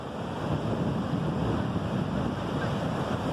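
Ocean waves roll onto Mission Beach in San Diego as a steady, loud roar of surf, mixed with heavy wind buffeting the microphone and no clear breaks between waves.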